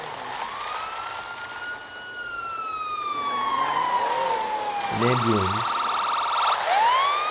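An ambulance siren wails in long, sliding tones, then switches to a fast warbling pattern, loud and close, with a brief voice at the start.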